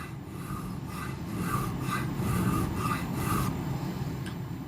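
A hand file rasps steadily back and forth across a metal part in a shop, making a continuous close gritty scrape with faint rhythmic strokes for several seconds and no voices.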